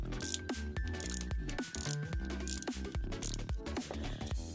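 A Zoids Rapterrix model kit's small wind-up motor being turned by hand with its gun part used as a key, giving a dense run of close mechanical clicks and ratcheting ticks against a busy background.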